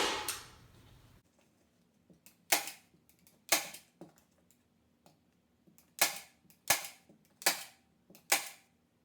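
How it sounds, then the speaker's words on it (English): Staple gun firing into upholstery fabric on a no-sew bench cushion: about ten sharp, snappy clacks at irregular intervals, some in quick pairs, close and loud against a quiet room, after a brief rustle at the start. "the good thing about using a staple gun to do your upholstery"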